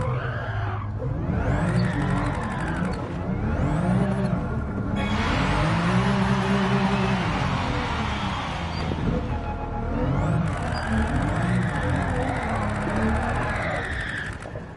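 Race car engine in Gran Turismo 7 revving hard and shifting, pitch rising and falling in repeated sweeps with brief tire squeal, loud and close throughout.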